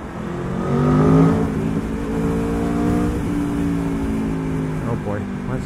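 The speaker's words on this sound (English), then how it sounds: "to see if we can get some engine noise" A 2022 Aprilia Tuono V4 sport motorcycle engine revs and accelerates loudly with rising and falling tones, a vehicle passing amid steady road noise.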